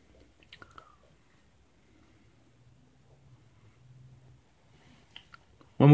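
Chewing Honey Nut Cheerios cereal up close, quiet crunchy bites and soft mouth clicks scattered over a near-silent background, with a faint TV hum and a sudden loud bump at the end.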